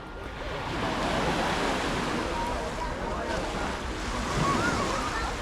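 Ocean waves at Miami's South Beach wash in with a steady, full hiss of surf, and wind buffets the microphone throughout, with no voices.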